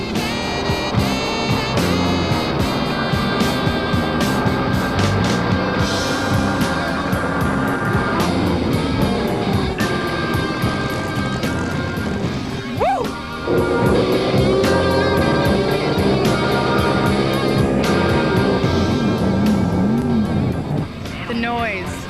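Drag racing boats blast down a quarter-mile course, a continuous loud engine roar with shifting pitch and crowd or commentary voices mixed throughout.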